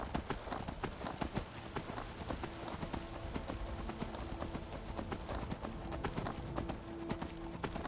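Rapid rhythmic hoofbeats of a galloping horse in the video game Skyrim, continuous and fairly close, with faint game ambience underneath.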